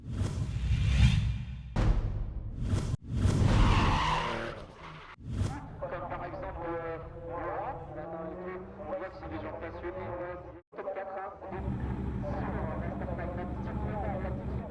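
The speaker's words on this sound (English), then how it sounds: "Let's enjoy the sound of the engines." Drift cars at a French Drift Championship small final, engines droning and revving steadily with tire-skid whooshes and squeals throughout, loud and close, with occasional brief bursts and a near-dropout partway.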